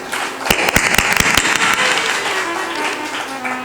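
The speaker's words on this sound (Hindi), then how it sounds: "ताली बजाकर उनका अभिनंदन करिए।" Devotees at a satsang at Kabir Dham clapping, sharp scattered claps rising into a dense roomy round of applause that continues at a steady level.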